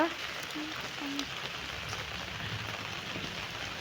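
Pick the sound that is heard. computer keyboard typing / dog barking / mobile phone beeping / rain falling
rain falling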